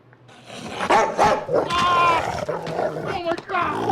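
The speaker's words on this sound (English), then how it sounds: "The dog." A dog barks and growls amid a dramatic TV scene, with harsh bursts mixed under overlapping voices and other noise, fairly loud and close.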